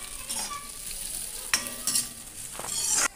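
Cashews sizzle in hot ghee, a bright, close frying hiss with light stirring scrapes and a couple of soft metallic clinks, rising a little toward the end; no one talks.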